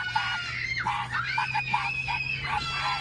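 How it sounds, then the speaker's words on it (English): Children scream repeatedly inside a moving car, their shrill, overlapping cries pulsing over a steady low engine and road hum. "Now the kids are screaming."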